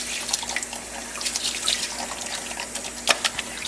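Water runs and splashes while rinsing soap out of bird feathers during taxidermy washing, a steady close trickle with small drips and splatters and no voices.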